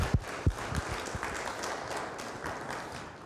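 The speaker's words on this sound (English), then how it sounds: "So give them another round of applause." Scattered clapping from an audience, a few louder claps at the start, settling into a dense, moderate patter of applause.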